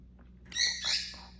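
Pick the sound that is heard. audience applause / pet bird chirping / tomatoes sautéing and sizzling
pet bird chirping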